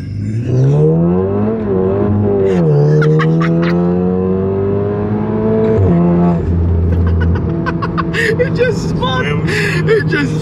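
Car engine revving hard while driving, rising and falling in pitch through repeated gear changes, loud and close from inside the cabin, with some voices under it.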